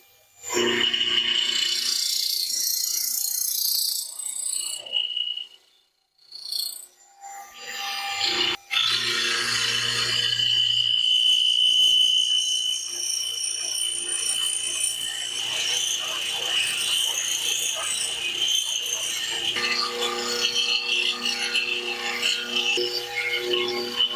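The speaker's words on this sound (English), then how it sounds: "put it in the mill and just mill it off a little bit of that" A milling machine shaves a little metal off a steel part, producing a loud, steady grinding scrape with a high whine that runs continuously for most of the stretch after a brief pause.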